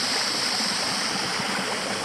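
Water pours steadily over Victoria Falls in the Blue Mountains, New South Wales, at low stream flow, heard from the top as a constant close hiss and rush with no voices.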